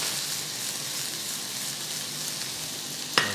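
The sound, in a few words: onions sweating in a pan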